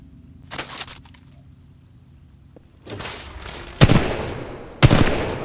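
Gunfire from a weapon in Titanfall 2's training gauntlet rings out as a few separate bursts and two sharp, loud shots, broken by short quiet gaps, with no talking.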